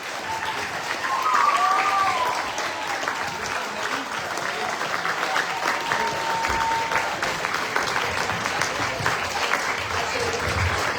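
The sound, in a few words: audience applause for a talent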